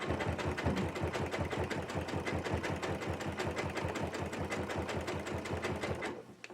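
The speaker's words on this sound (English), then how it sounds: "I'm going to pull this one down and sew forward a little bit." Sewing machine stitching fabric tubes for a jelly roll rug, a rapid, steady needle rhythm running loud and close for about six seconds before stopping abruptly.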